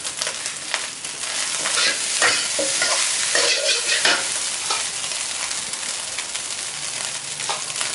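Rice with kale and salted fish stir-fries loudly over high heat in a Thai kitchen, chilies going in, with constant hissing sizzle and repeated scraping stirs of a spatula against the pan.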